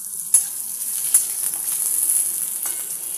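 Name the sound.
potatoes frying in a pan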